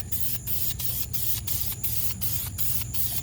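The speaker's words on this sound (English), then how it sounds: "Spray your spokes first." A continuous close hiss of spray paint on the spokes of Saturn VUE wheels, broken by regular brief pauses into rapid rhythmic bursts.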